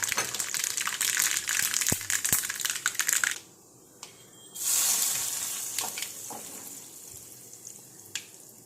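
Mustard and fenugreek seeds spluttering in hot oil, hissing and crackling loudly, then a brief lull before another burst of sizzling that slowly fades, with occasional clinks nearby.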